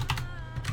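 Computer keyboard keys tapped quickly while entering an IP address, a few close, crisp clicks in a brief burst.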